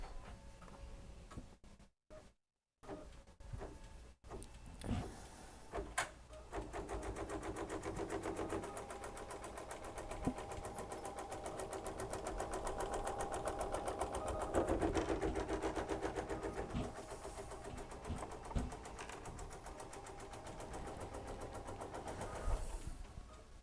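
An embroidery machine runs a fabric placement line, ticking in a fast, steady mechanical rhythm at close range after a few brief stops and starts, with no talking.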